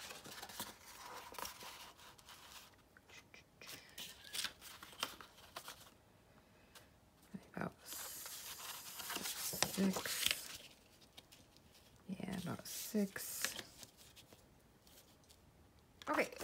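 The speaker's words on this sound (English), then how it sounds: "I'm gonna cut off another piece of the roller for the envelope" Scissors cutting player piano roll paper to make an envelope, heard as quiet intermittent snips, rustles and paper handling, close by, with a person talking softly at times.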